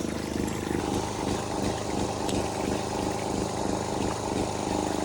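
A small motor runs steadily, likely a float-switch water pump being set up at an abandoned Portuguese homestead, giving a continuous rumbling drone throughout with no talk.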